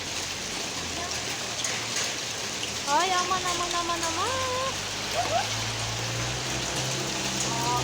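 Heavy hail pelting a roof in İzmir, a dense steady clatter lasting throughout, with a woman exclaiming over it.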